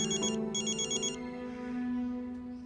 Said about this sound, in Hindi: राघव का फोन है